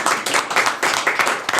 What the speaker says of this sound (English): let's give the Eagles Club an applause